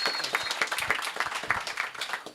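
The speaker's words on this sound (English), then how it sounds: "give a big round of applause for Philip" A crowd at a startup education pitch competition breaks into lively applause, many hands clapping in a dense, fluttering wash that stays fairly even from start to finish.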